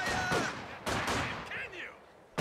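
Battlefield gunfire in the World War II strategy game Company of Heroes 2, sharp shots and short bursts over a couple of seconds, mixed with unit voice chatter.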